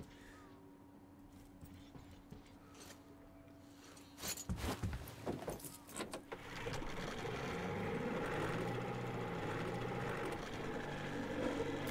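A motorboat engine in the video game Metro Exodus rumbles steadily and fairly loud, starting up after a few sharp clattering bangs and then droning on continuously.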